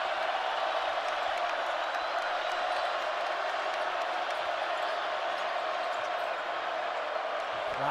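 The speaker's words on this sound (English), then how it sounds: "Crowd is into it." A basketball crowd at a Virginia Cavaliers versus Ohio State Buckeyes game keeps up a steady, loud roar of cheering from start to finish, with an announcer talking over it.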